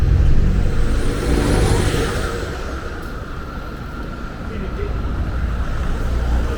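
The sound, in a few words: town street traffic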